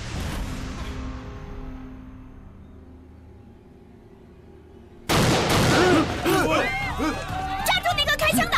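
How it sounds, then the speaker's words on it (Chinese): Gunfire breaks out in a street fight scene, with a sudden burst of loud overlapping shots and ringing impacts after a quieter stretch, and a raised voice shouting amid the shots. "抓住那个开枪的！"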